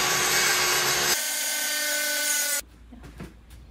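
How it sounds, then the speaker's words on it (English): A circular saw rips through a wood kitchen cabinet panel, guided along a clamped straightedge. A loud, steady whine runs for about two and a half seconds, then cuts off into quieter clatter and handling noise. "so that will kind of act as a track for my circular saw"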